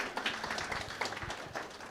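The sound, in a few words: audience clapping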